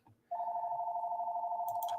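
A telephone rings with a single steady electronic tone that starts abruptly and holds loud and continuous, with a faint clatter near the end.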